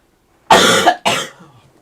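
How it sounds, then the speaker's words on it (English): Two harsh, forceful coughs in quick succession, close to the microphone, followed by a faint trailing breath. "Again, I apologize for the coughs."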